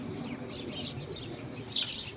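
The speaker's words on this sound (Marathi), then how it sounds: "चिमण्यांचं बघा किलबिलाट येतो ऐकू." House sparrows chirping beside a lake, with a scatter of quick, bright tweets at moderate distance over a soft outdoor background hum and no talking.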